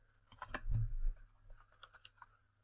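Fast typing on a computer keyboard, with a quick burst of clicks and then lighter scattered keystrokes, close and fairly quiet.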